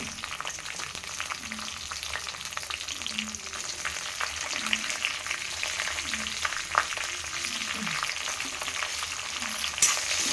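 Vegetables with dried red chillies and green chillies frying in oil, a steady close crackling sizzle that runs throughout with occasional stirring scrapes.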